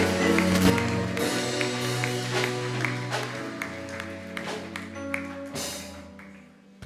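A church congregation applauding during a Sunday service, scattered claps and taps rising and falling over a sustained musical backdrop, with voices faintly mixed in.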